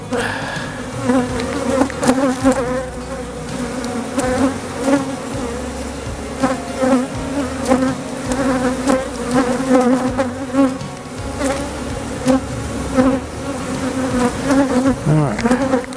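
Honeybees swarm around an open hive in a backyard, a loud, close, continuous buzzing with overlapping wingbeat tones rising and falling as insects pass, no talk.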